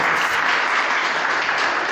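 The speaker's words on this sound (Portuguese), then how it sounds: "dando uma salva de palmas para Jesus" A church congregation applauds together at a Portuguese-language evening service, producing dense, steady clapping that fills the space evenly throughout the short span.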